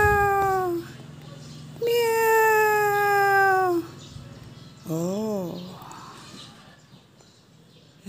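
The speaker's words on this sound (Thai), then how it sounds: "ตาสีทองมานอนอยู่คนเดียวเมียวเมียวเมียวเมียว" A black cat meows close by, several drawn-out cries with pauses between them and a shorter, wavering call near the end.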